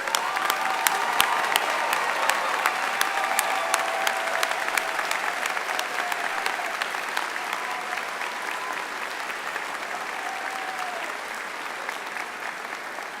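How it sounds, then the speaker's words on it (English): A commencement audience at Florida Atlantic University's Spring 2024 ceremony applauds first-generation graduates as they stand: dense, steady clapping that fills the hall for the whole stretch, with a few sharper claps standing out near the start. "round of applause?"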